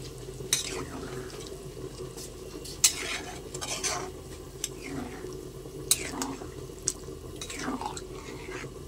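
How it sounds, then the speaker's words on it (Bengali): Washed, soaked rice is stir-fried with meat in a pot for tehari. A spatula scrapes and clinks against the metal in scattered strokes over a soft sizzle, with no talking. "চালটা একটু ভালো করে আমি কষিয়ে নেব"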